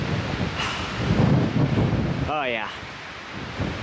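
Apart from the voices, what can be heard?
cold wind blowing on a mountain ridge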